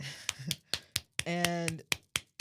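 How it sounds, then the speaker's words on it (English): A few weak hand claps, sparse and soft, close by, alternating with snappy taps and a short burst of voiced talk in a quiet room. "Weak ass claps."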